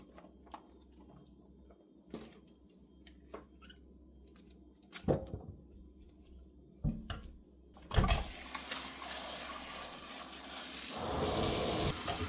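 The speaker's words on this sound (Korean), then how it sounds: "물을 넣고" Water runs from a tap and pours into a pot for seaweed soup, starting around the middle and building into a steady gush toward the end, after a few quiet kitchen knocks.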